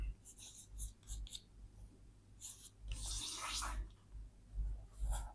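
Hand-written working of a class 10 coordinate geometry distance problem, with light scratchy pen strokes in short bursts and pauses, close and fairly quiet.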